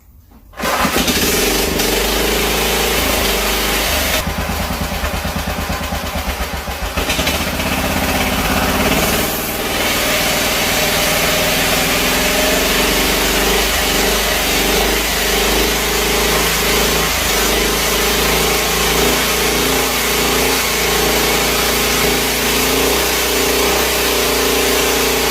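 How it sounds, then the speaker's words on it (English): A small go-kart engine starts and then roars steadily at high revs against the brake for a long stretch, loud and close, with a strained, labouring drone. "This engine overpowered it like it was nothing."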